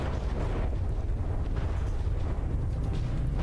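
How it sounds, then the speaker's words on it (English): Dense, continuous rumbling blasts from HESH frag explosive shells in the naval combat game From the Depths, a steady loud barrage of overlapping booms with no pauses. "Shooting some shorter hesh frag explosives."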